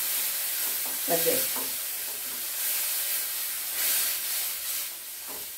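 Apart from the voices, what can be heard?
sautéing ground tomato, onion, ginger, garlic paste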